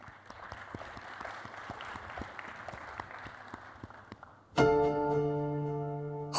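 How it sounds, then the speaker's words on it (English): At a space debate event in Abu Dhabi, an audience claps steadily at a modest level for several seconds, then the clapping gives way to a loud burst of sustained, tonal music. "Please let's give them a big round of applause."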